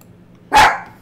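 A single loud, close dog bark bursts out in the Uboat submarine video game, standing alone against a faint low hum.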